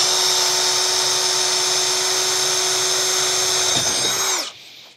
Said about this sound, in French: Vous voyez, un perçage rapide, efficace,